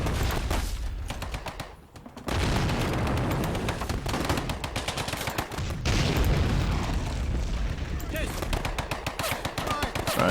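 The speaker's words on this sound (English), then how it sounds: "We have some constant bombardment on the machine gun positions over there." Continuous artillery bombardment and machine-gun fire in the Men of War: Red Tide Odessa battle, dense rattling bursts and booms filling the whole stretch, with a voice talking over it.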